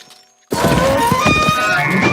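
Crystalline tinkling glass and crunching ice for crystal-covered hunger creatures in the Crowfall video game, bursting in loud and dense after half a second of near silence, with sharp crunchy impacts and bright ringing shards continuing throughout.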